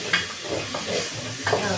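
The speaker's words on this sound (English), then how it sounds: "I keep on stirring the mixture." Steady sizzling of a meat mixture frying in a pan for pilau, with a spoon scraping and stirring through it at close range.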